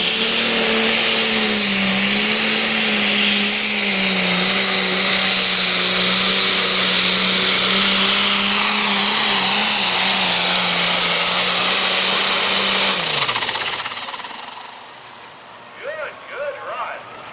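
A pulling tractor roars at full power while dragging a weighted sled at a truck and tractor pull, a loud sustained high-revving drone that holds steady for about thirteen seconds, then winds down as faint voices follow.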